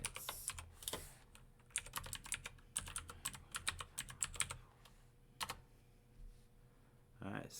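Someone types on a computer keyboard while entering commands for an ethical hacking exercise. Quick bursts of close, crisp keystrokes are broken by short pauses, and a lone sharper key tap ends the sequence.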